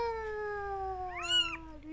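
A young village kitten gives one long, drawn-out meow with a brief rising squeak near its end, close and fairly clear over a quiet background.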